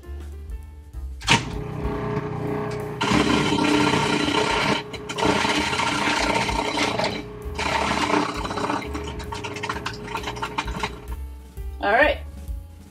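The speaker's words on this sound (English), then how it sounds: "now I'm gonna try putting them in the food processor using this fancy attachment" A food processor with a shredding attachment whirs in loud, sustained bursts as carrots are fed through, separated by brief pauses and ending with a short rising mechanical whine; close and harsh, with no speech.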